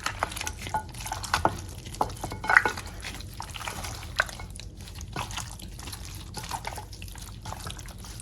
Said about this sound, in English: So I'll go ahead and mix it really well.